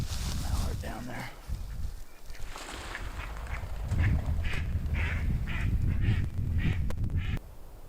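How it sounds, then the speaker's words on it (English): A mallard duck quacks outdoors in a rapid series of short calls in the second half, with a person talking and rustling movement over the earlier part. "Mallard down there."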